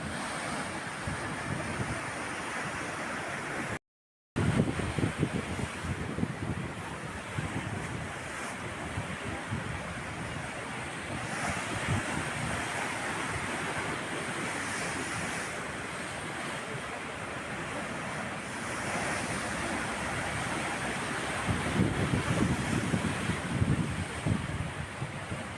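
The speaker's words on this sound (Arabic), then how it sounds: "النهاردة البحر منسوبه عالي، لكن برضو الموجة أهدى بكتير." Sea waves surge and wash along the Alexandria corniche on a windy winter day with a high sea, a continuous roar of surf mixed with wind buffeting the microphone, swelling louder toward the end.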